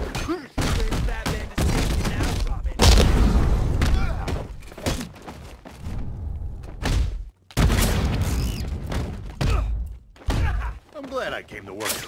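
Rocket blasts and heavy thuds from Batman: Arkham Knight combat, several loud booms bursting in a fast, chaotic run with game voices talking over and between them.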